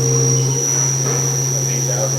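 Spindle of a Haas vertical machining center running at 2,500 RPM, giving a loud, steady low hum under a thin high whine that holds constant throughout.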